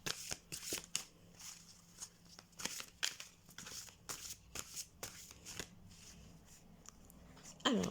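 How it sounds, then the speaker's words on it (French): Tarot cards are shuffled by hand up close, giving repeated quick riffling bursts and soft slaps in an irregular rhythm, faint and alone. "J'adore mélanger les cartes."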